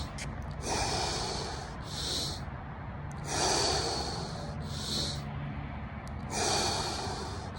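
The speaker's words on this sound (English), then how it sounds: "Three big breaths." A person takes three big, deep breaths during martial arts breathing training: long, hissing inhale and exhale cycles, each separated by a short pause, close and fairly quiet.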